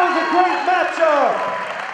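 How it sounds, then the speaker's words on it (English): A crowd at an MMA cage-fight event in East Peoria applauds steadily, a broad wash of clapping with an announcer's voice over it. "Let's hear a round of applause for these two warriors."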